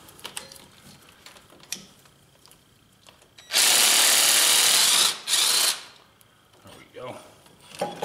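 Power tool running on bolts of a John Deere 1050 loader, two loud sustained whirring bursts with a brief pause between, set against quiet shop background and faint handling noises.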